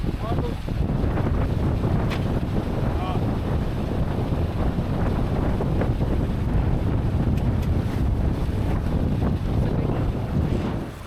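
Strong wind roars steadily across the microphone while sailing the Malacca Straits, with the hiss and slap of water against the hull and boat noise throughout, loud and continuous with no pauses.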